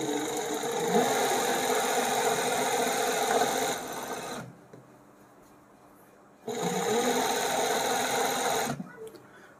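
An overlock sewing machine stitches fabric in two runs of fast, steady whirring, each about four seconds long, with a quiet pause between them.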